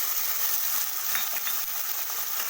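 Ginger garlic paste fries in a pan with a dense, even hiss of sizzling and faint scraping from stirring, close and moderately quiet, no voices.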